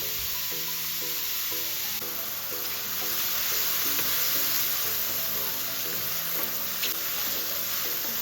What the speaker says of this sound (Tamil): மஷ்ரூம் வந்து ஒரு ரெண்டு நிமிஷம் வதங்கட்டும்